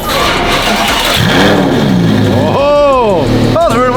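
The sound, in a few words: car engine struggling to start in the cold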